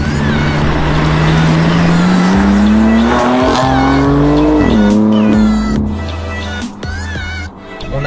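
A BMW M4 CS accelerates hard with a loud rising engine note through gear changes while its tires squeal, then the roar eases off.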